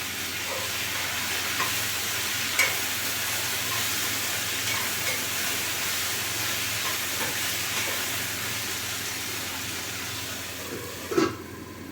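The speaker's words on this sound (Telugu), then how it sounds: "టమాటా వేసుకొని మళ్ళీ ఫ్రై చేసుకోవాలి" Tomatoes frying in a pan for breakfast, a faint, steady sizzle with occasional soft clicks of a utensil against the pan.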